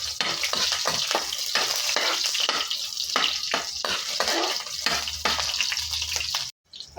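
Onions hit a hot pan for a tomato-and-egg sauté, giving a loud, dense, crackling sizzle that runs steadily for several seconds before cutting off abruptly near the end.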